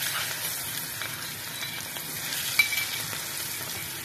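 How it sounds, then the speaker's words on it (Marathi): Dal grains drop into hot tempering oil, giving a soft, even sizzle and faint crackle at close range, with one brief clink partway through. "आता फोडणी तयार आहे. त्यामध्ये हे थोडेसे जे डाळीचे दाणे ठेवलेले आहेत ते घालते आहे."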